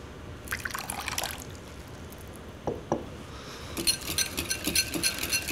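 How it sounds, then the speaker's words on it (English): Water trickles in a thin stream into an oil-and-vinegar vinaigrette emulsion, faint wet dribbling with a few small drips and splashes that grow busier toward the end, heard alone. "then you can add a little bit of water."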